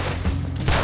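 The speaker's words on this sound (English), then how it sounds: "Warning shots all." A quick fusillade of gunfire rings out in Red Dead Redemption 2, several sharp shots in close succession, loud and near with no talk over them.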